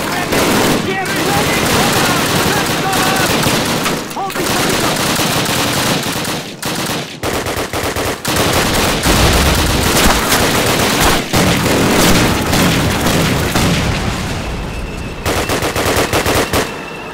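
Loud, sustained machine-gun fire in the Call of Duty battle at Pavlov's House: dense bursts of rapid automatic shots almost without pause, with shouting voices in the mix.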